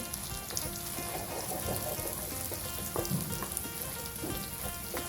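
Curry paste stir-fries in a pan for a spicy Thai beef phat phet with eggplant and long beans, giving a steady, close sizzle and crackle with scraping stir strokes and no talking.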